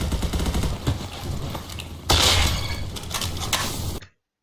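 Rapid gunfire in the Roblox shooter Bad Business, loud close shots with a rattling burst and a sharp crack partway through, ending abruptly in silence.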